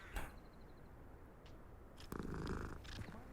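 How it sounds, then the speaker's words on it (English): A cat in the video game Hogwarts Legacy purrs softly and continuously against quiet ambient game sound, with a few small clicks and a brief louder shuffle near the end. "Another cat."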